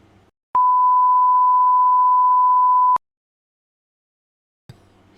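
A single steady electronic beep, a pure tone held for about two and a half seconds, loud and clean, with quiet background noise before and after.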